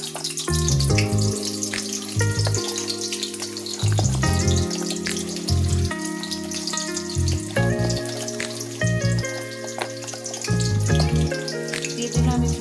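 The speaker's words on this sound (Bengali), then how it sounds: "দিয়ে দিলাম এখানে আর কিছু কেটে রাখা পেঁয়াজ" Chopped onions hit hot oil in a pan for a Bengali chicken curry, raising a steady hiss and crackle that runs throughout beneath prominent tonal music.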